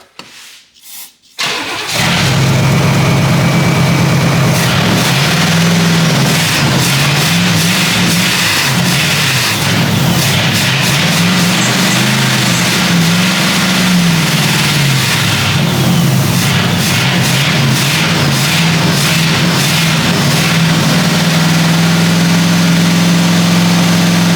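A 1977 Pontiac Grand Safari station wagon, left sitting for thirty years with a carburetor that receives no fuel, cranks and then roars into loud, close running, its engine surging and wavering in rough revs throughout.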